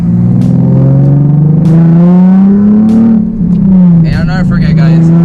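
A modified Nissan 370Z engine on city streets drones loudly at steady revs with a rising and falling pitch, ending in a brief blip as it downshifts, recorded close from inside the car.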